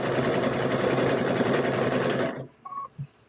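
A sewing machine runs loud and close in a continuous buzzing whir while stitching quilt squares, then cuts off sharply, followed by a few soft clicks.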